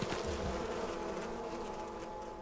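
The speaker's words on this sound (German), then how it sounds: "Bin dann aus Versehen auf den Bienenstock gekommen." Bees swarm around a beehive in the video game Far Cry Primal, a dense continuous buzzing that stays loud and close throughout.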